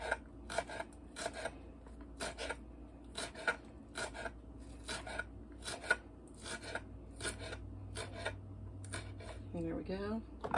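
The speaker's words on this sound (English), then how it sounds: "I'm just going to cut them into little rounds real quick." Knife slicing green onions into little rounds, a quick series of crisp, evenly spaced chopping taps on a board, faint and close, with a brief murmur near the end.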